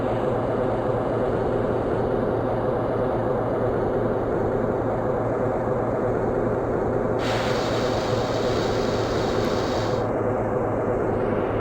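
Class 315 EMU electric train running from Southend toward Wickford in a rail simulator, a steady loud continuous rolling rumble with a hiss that brightens partway through, no talk.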